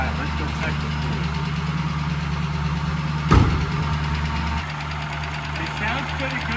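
A 1965 Ford Mustang engine runs after sitting for 33 years on old fuel, idling steadily with a low rumble and a faint knock. One sharp bang comes partway through, and people talk over the running engine.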